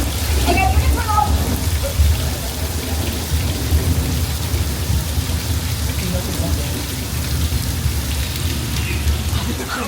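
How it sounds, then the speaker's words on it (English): Studio sprinklers on a Universal Studios Hollywood film set spray water into the air as artificial rain, a steady, dense hiss and patter close by, with a low rumble underneath and a faint voice in the background. "instead of spraying the water straight down, they'll shoot the water into the air"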